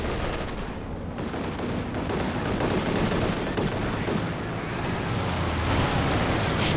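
Rattling flak panzer gunfire in Company of Heroes 2, a dense continuous barrage of rapid shots mixed with battlefield rumble, loud and steady throughout.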